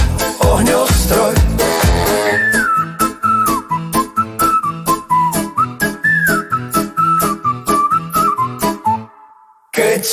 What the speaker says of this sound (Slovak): Keď som šťastný, rád si pískam.